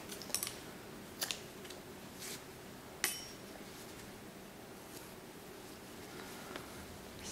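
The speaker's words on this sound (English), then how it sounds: "I'll cut this yarn." Scissors snip through crochet yarn during hat-making, a few short metallic clicks at irregular intervals over a quiet room background, close and fairly faint.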